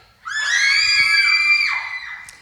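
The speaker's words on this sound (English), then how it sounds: "I want to hear everybody's, you are in the middle of the horror movie scream." A group of youth shouts long, sustained horror-movie screams in unison, starting together loudly and holding for over a second before trailing off, with a brief sharp cry at the end.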